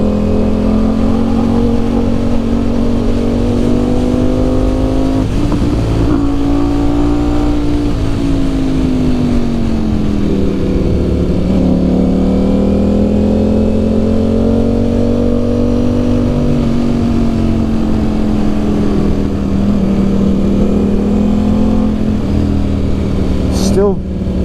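A KTM 1390 Super Duke or Ducati Streetfighter V4S engine drones loudly and steadily, its pitch dipping and rising as the revs shift, with the power briefly cutting during a wheelie.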